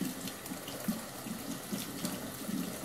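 Tap water runs steadily into a sink while a makeup brush is rinsed, a faint continuous splashing stream with soft irregular ripples and no talking.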